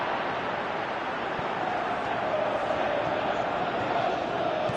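A stadium crowd in a PS4 football video game keeps up a steady, distant roar and murmur that swells slightly toward the end, with no voices standing out.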